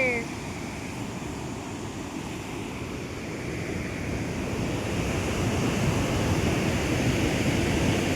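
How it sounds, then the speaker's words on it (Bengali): Steady rushing water at the Rewa Eco Park waterfall in Madhya Pradesh, a continuous broad roar close by with some wind on the microphone. "জলের একবার স্রোতটা শুধু দেখো।"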